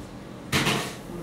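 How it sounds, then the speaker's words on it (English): A kitchen oven door swinging open to slide beef kabobs under the broiler, a single short thud-like clunk with a brief rattle, fairly close and on its own. "So I'm going to put these in the oven."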